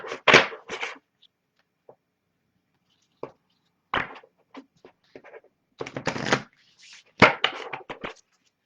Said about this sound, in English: I will shuffle the deck and get a declaration for you and a letter.